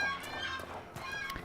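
Ambient wildlife birds in the Dragon Age: Inquisition video game give a few quiet, repeated clucking chirps over a soft background, like distant fowl calling.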